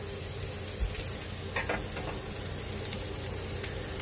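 Birria tacos sizzle steadily on a hot griddle, a dense, constant frying hiss with a few brief scrapes and clinks breaking through near the start.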